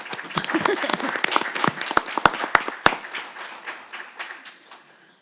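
Group applause from a room of people at a board of trustees meeting, sharp claps rising and then thinning out to scattered clapping as it fades.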